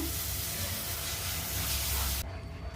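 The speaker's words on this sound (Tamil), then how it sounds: "இப்போ இதில் கொஞ்சம் கொஞ்சமாக பால் சேர்த்து மிக்ஸ் பண்ணிக்கலாங்க" Milk is added to halwa roasting in ghee, raising a loud, steady steamy hiss close by that cuts off abruptly near the end, leaving a quieter bubbling.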